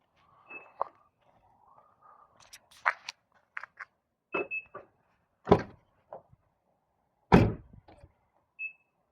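A Mazda MX-5 ND door on the driver's side is worked open and shut repeatedly, giving a series of sharp knocks and clunks spaced out over several seconds, with a few faint squeaks between them.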